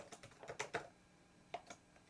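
Keystrokes on a computer keyboard while entering Swift code, a quick cluster of five or six clicks followed by a pause and two more taps, fairly faint and with no voices.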